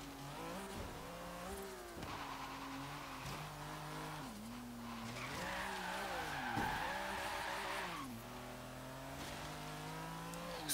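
A 1982 Lancia 037 Stradale in Forza Horizon 3 drives on dirt, its engine revving up and down through gear changes with bursts of tire skidding, loud and continuous throughout.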